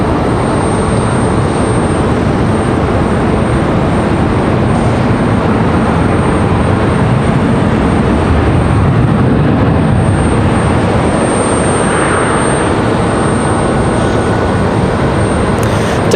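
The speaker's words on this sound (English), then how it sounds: "Nice smooth touchdown for our Philadelphia flight as I reposition." An airliner on a Philadelphia flight touches down at Raleigh-Durham airport, its loud, close engine roar filling the whole stretch as a dense, unbroken wash of noise with no voices.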